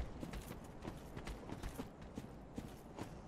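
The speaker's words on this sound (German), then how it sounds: "Irgendwie höre ich die ganze Zeit Schritte hinter mir." Footsteps trailing the player in the video game Dark Souls 3: a steady, rhythmic run of soft thudding steps, fairly faint and continuous over low game ambience.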